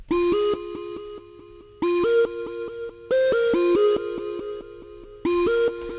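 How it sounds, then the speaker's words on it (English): A bright synth lead plays a plucky, repeating melodic phrase in short bursts, clean and fairly quiet, with gaps between phrases and no voices. "So the lead by itself sounds like this."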